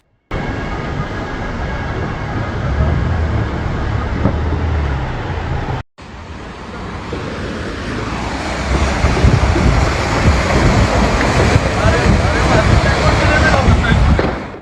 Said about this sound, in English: the issue stemmed from a major burst water pipe in the Seestrasse area of Wedding